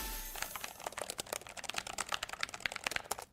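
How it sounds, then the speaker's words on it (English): Rapid typing on a Logitech G515 Rapid TKL keyboard: quick, crisp, fairly soft key clicks rattle in a dense, uneven stream, close up with no voices. "That is a beautiful sounding keyboard"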